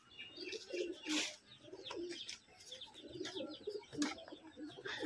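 Teddy pigeons coo in soft repeated bursts inside a loft, with a few chirps and a brief wing flutter mixed in, fairly quiet and close with no talking.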